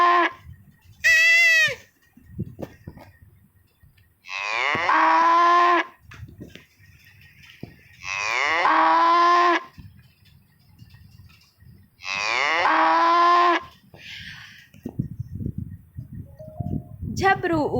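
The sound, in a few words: cow mooing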